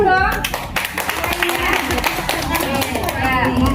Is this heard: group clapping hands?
yes